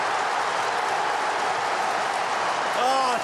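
A stadium crowd at an AFL football match, Hawthorn against Essendon, roars in a loud, dense, continuous wash of cheering and applause, with a voice rising briefly near the end.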